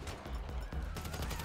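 Gunfire in the video game GTA 5, a short dense burst of rapid shots that fills the whole moment, loud and continuous, with a voice faintly beneath.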